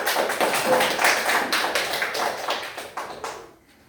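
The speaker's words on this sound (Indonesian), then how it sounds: "Boleh tepuk tangan untuk kelompok 3" Classroom applause for group 3, with students clapping together in quick, fairly even bursts that are loud at first, then thin out and stop abruptly near the end.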